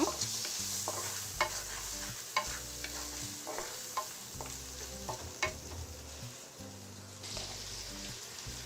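Shrimp fry lightly in a pan with a soft continuous sizzle broken by frequent stirring clinks and scrapes, close but moderately quiet, with a low background hum.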